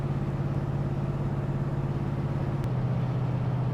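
A Chevelle with a Blueprint 383 V8 cruising on a highway at low RPM, a steady, close, droning engine hum with road noise that holds even throughout and shifts slightly in pitch near the end, no voices.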